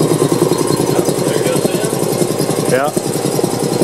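A homemade air compressor's motor runs steadily and loudly with a fast mechanical chug throughout, while people talk briefly over it.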